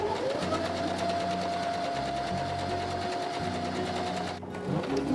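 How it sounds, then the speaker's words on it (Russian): A sewing machine stitches a seam 1 cm from the fabric edge, its steady, close, rhythmic whir running continuously with a brief dip near the end. "И я прокладываю строчку вдоль всего шитья 1 см от края"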